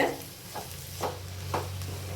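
A vegetable curry with potatoes is stirred as it fries in a steel kadai, giving a low sizzle with a few soft scraping strokes spaced about half a second apart, close and quiet.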